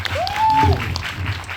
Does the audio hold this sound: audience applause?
yes